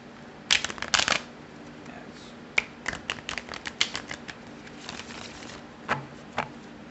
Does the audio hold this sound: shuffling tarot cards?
yes